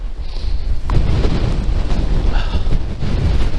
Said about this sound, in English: My goodness, that wind.